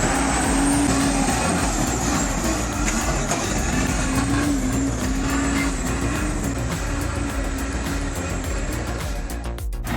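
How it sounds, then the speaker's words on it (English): A Volvo A40 articulated dump truck drives with a heavy, loud diesel engine drone that runs steadily and close by throughout, with rough mechanical rumble and no voices. "The Volvo A40, a powerful articulated dump truck, embodies power and versatility in the construction and mining sectors."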